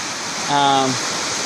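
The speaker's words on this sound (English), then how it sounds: "you're going to be by streams like this" A low-elevation mountain stream along the Middle Prong Trail in the Great Smoky Mountains rushes with a steady, broad wash of water noise, and a voice briefly speaks over it midway.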